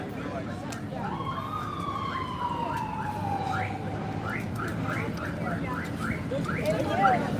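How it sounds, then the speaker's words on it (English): A police siren wails with a long, falling tone, followed by rapid chirping yelps, heard at a distance over low traffic rumble and background voices in Washington, DC. "But you do hear the sirens and you see the police rushing"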